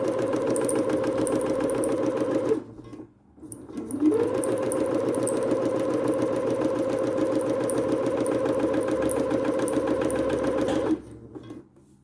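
A sewing machine stitches around the corners of fabric with a steady, close mechanical whir. It pauses briefly partway through, then runs on again until a stop near the end.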